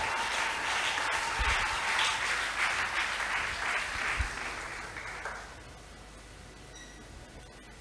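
A church congregation applauds and cheers during a French-language sermon, a dense, sustained wash of clapping that fades down after about five seconds into quieter room noise.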